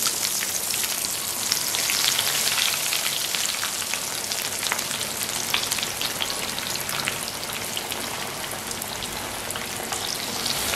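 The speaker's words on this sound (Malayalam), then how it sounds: "ഓയിൽ നന്നായി ചൂടായ ശേഷം ഇത് ഓരോന്നായിട്ട് നമുക്ക് ഇതിലോട്ട് ഇട്ട് കൊടുക്കുക" Cutlets fry in hot oil, giving a dense, continuous crackling sizzle that stays loud and even throughout, with no voices over it.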